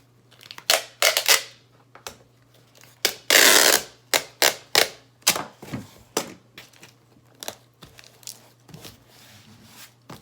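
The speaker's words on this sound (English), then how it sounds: "And tape it closed." Packing tape pulled and pressed across a candle shipping box, a burst of loud tearing near mid-clip among repeated short scraping, rasping strips and pats, close and without speech.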